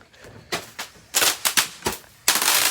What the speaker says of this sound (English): We got some of these that you hold in your hand and they fire.